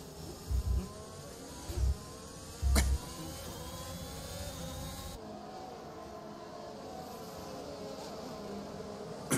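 Race cars at Monza in a racing video game whine past, with a few loud low bumps early on and steady engine noise rising and falling throughout.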